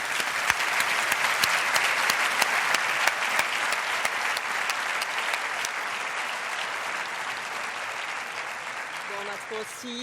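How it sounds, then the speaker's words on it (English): A large awards-ceremony audience applauds the MotoGP Esports World Champion at the 2019 FIM MotoGP Awards, dense sustained clapping throughout, with a voice and faint music entering near the end. "Let's have a big round of applause for him"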